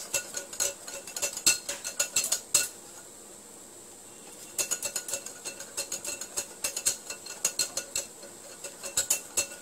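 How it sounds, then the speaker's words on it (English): A whisk beats coriander fritter batter in a bowl with rapid, rhythmic metallic clicking and clatter, close and fairly loud. The strokes pause for about two seconds midway, then resume steadily with no talking. "with the help of a whisk, mix it well so there are no lumps."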